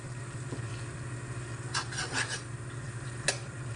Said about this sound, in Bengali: মশলাটাই দিয়ে দেবো সুন্দর করে মিশিয়ে নিই